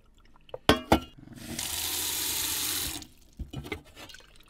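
Tap water runs into a container for a cats' fresh water change inside a camper van, a steady hiss lasting about two seconds between clinks and handling noises.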